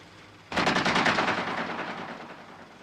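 Warning shots from a film, a sudden loud burst of rapid gunfire that rattles on for about two seconds and then fades out, alone with no talking.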